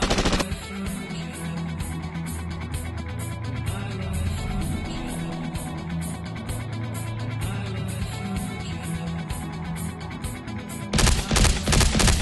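A shootout fills nearly the whole stretch with loud, continuous rapid gunfire. A burst of sharper shots follows at the end.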